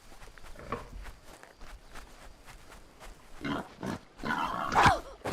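In a video game, soft footsteps patter along while a pig grunts and oinks, its squeals growing louder and busier near the end; no one talks.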